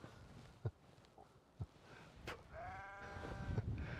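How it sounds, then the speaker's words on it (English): Sheep bleat in a rural spot beside a 2013 Audi SQ5, with a clear, drawn-out wavering bleat in the second half over faint background noise and a few soft thumps. "If these sheep will shut up."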